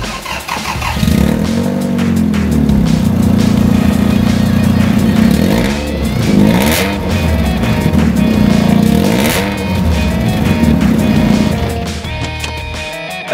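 A Toyota MR2 with its stock exhaust before a spiral resonator swap revs hard and continuously, a loud, close, raspy drone rising and falling through repeated throttle blips with no talk.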